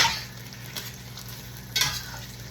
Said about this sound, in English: we're gonna cook the onions forever